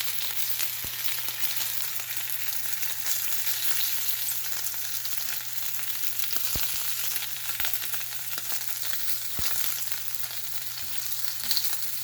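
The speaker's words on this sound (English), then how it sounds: "Look at that sizzling action." Food sizzling in a frying pan in a virtual grillhouse scene of the VR game H3VR: a steady, dense hiss with a low hum beneath and a few sharp pops scattered through, with no talking.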